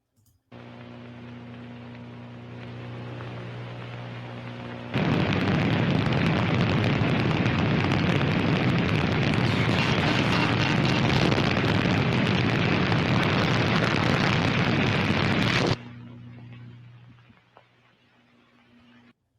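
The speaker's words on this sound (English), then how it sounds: "you could hear the devices going off right there" Loud, sustained roaring blast from explosive devices going off in flight footage near a mountain, a broadband rumble lasting about ten seconds, preceded and followed by a steady lower engine-like drone.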